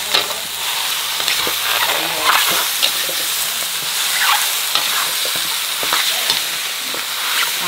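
Chicken sizzles in a pot of hot oil with minced lemongrass for a chili hotpot, a loud continuous frying hiss with scraping stirs and crackling pops throughout.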